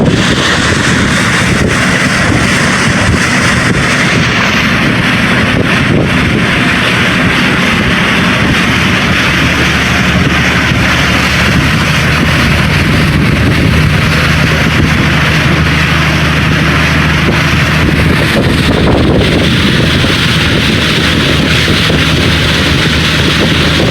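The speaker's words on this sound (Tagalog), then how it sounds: "Ayan, maganda na po ang takbo ng aming bangka guys." A motor boat engine drones loud and steady on a test run, its continuous low rumble holding without a break, with no talk.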